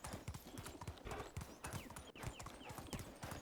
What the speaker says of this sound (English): I'm getting the horse.